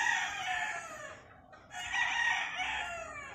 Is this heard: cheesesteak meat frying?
no